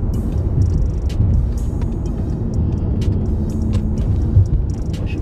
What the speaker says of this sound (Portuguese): a gente tá aqui trocando uma ideia, dando um rolê no Jetta